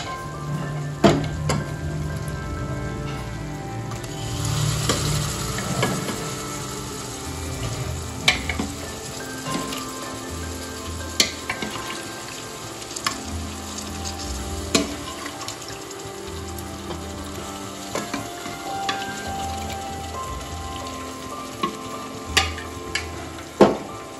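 Chicken pieces go into fried masala in a pan, sizzling with spatula stirring and scraping taps over a wet, running-water-like hiss, close and fairly steady.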